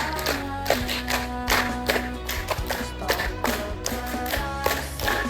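A group claps in a patterned rhythm at a PKK community simulation event. Distinct clap bursts repeat over a steady tonal background, moderately loud and close.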